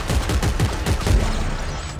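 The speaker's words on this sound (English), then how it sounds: "I'm gonna shoot one real quick." A rapid burst of gunfire in the co-op shooter Dead Space 3, aimed at canisters, gives repeated sharp cracks in quick succession that fade off into a quieter tail.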